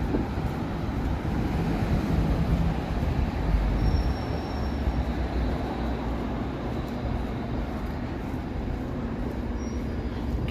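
A Toronto subway train ride, with a steady loud rumble of wheels and car noise throughout and faint squeals of the wheels on the rails.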